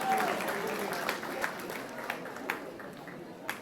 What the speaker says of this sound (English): A louder round of applause, everyone.